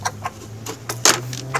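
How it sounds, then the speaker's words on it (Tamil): Chickens cluck in short, scattered bursts at close range while being fed wheat, with a steady low hum running underneath and no talking. "கோழிக்கு வந்து இப்போது இற வைக்கணுங்க."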